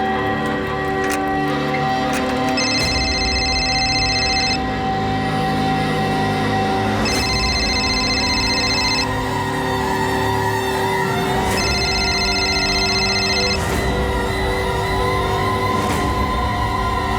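A telephone rings unanswered in three evenly spaced bursts of electronic trilling, each lasting about two seconds, over a steady bed of dramatic background music.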